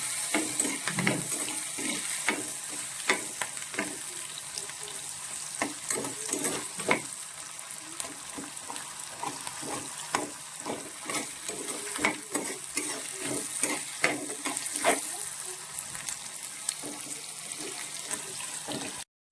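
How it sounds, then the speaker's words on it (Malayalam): Ginger, garlic and green chili fry in a pan for an anchovy fish pickle, with a continuous sizzle broken by repeated scraping stirs and clinks of the spoon, close and steady, with no voices. "നമ്മുടെ വെളു ഇഞ്ചി വെളുത്തുള്ളി പച്ചമുളക് ഇത് ചേർത്ത് കൊടുത്ത് നന്നായിട്ട് ഇളക്കാം"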